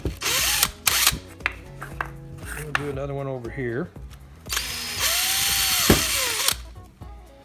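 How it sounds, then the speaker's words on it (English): A power drill bores a hole in plastic with several loud whining bursts of varying length separated by pauses, and someone speaks briefly between the runs. "So let's go ahead and drill this hole."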